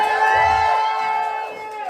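Nightclub crowd cheering for a burlesque performer at an emo burlesque show, a dense burst of whoops and shouts over steady loud music, close and continuous for the whole moment.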